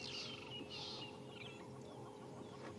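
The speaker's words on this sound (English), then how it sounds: "It's a yellow-billed hornbill and a grey lory, or otherwise known as the go-away bird." A grey go-away-bird, also called grey lory, calls outdoors at sunrise on an African safari, two loud harsh squawking bursts close together near the start, then softer calls over steady wild ambience.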